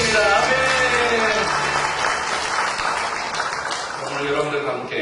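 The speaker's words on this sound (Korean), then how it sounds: "하나님의 시간에 영광의 박수를 드리겠습니다" A church congregation at a Sunday service breaks into applause, a broad wash of clapping that swells and holds, with voices and a low musical tone mixed underneath.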